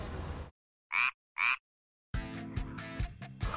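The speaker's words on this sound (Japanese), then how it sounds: "ビッキーってカエルのことですか？" Two short, sharp frog croaks sound alone in quiet, spaced about half a second apart, between stretches of other noise and busy sound before and after.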